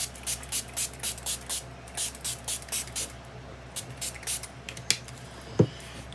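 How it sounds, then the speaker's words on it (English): Hand spray bottle misting water onto a stencilled card in a craft demo, about a dozen short, evenly paced hissing squirts close up, ending with a couple of louder taps or knocks. "spray it with water"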